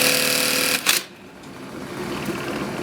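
An AtlasUSA industrial sewing machine sews a bartack, back and forth, with a loud, rapid mechanical whirring that cuts off sharply, followed by a brief clunk and a lower steady motor hum.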